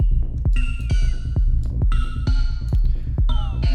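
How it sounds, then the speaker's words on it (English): A synth with its low-pass filter more closed plays a short rhythmic pattern of plucked notes with a muffled, darker tone, punctuated by thumping low hits, in a hypnotic techno track. "As you can hear, this is the filter more closed."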